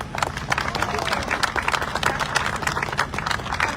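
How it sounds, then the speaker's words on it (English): Applause for a California State Senate transportation chair at a VTA event announcing BART Silicon Valley funding: scattered, moderately loud clapping from an audience, with individual claps standing out and some voices under it. "So let's give him another round of applause."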